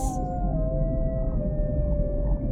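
Long, sustained whale song: a steady tonal moan drifting slowly in pitch, carried over a dense low rumble of ocean water for the whole stretch.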